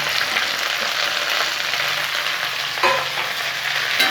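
Okra pieces for a poriyal sizzle steadily in hot oil in a pan, a dense continuous frying hiss with a couple of brief stirring knocks near the end and no voices.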